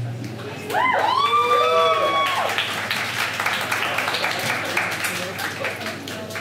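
Audience applause and cheering at a community night poetry performance, loud and sustained from just under a second onward, with a voice calling out over it near the start.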